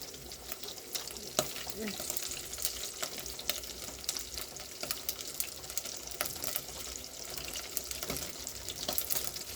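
Meat for beef stew fries in a pot with a busy, crackling sizzle. The sound is moderately loud and close, with clinks and scrapes of stirring on top.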